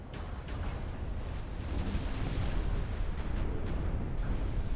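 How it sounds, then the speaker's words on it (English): Ship guns in Ultimate Admiral: Dreadnoughts fire in heavy, rumbling booms that blend into a continuous thunderous roar, building louder toward the end with distant-sounding blasts layered over each other. "I guess I am just firing off all my ammo here."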